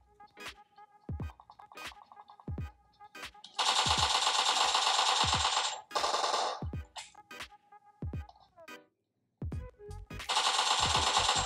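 Gunfire in the mobile battle game PUBG Mobile: sharp single shots and rapid automatic bursts, some long sustained volleys, separated by short quiet gaps, loud and close.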